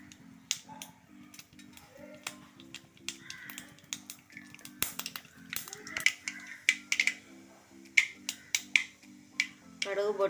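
A spoonful of mustard seeds pops in two to three tablespoons of hot sesame oil for a carrot pickle, with sharp, irregular cracks that grow denser over a low background hum.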